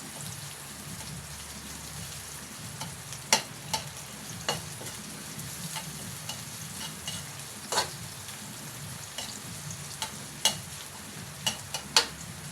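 Onion and garlic sauté in a pan for chicken tinola. A continuous crackling sizzle is punctuated by sharp, intermittent clicks of a utensil against the pan, with no voices.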